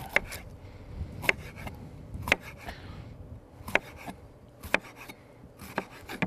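A knife chops green pepper and onions on a cutting board in a home kitchen, giving sharp, close chops in an uneven rhythm with some quieter scraping between them.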